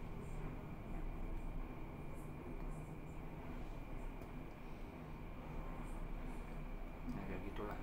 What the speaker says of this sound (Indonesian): Itu ntar suara kereta lewat.